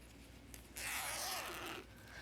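Hidden zipper slid open on a garment waistband, a soft scraping rasp lasting about a second, faint and close under low room noise.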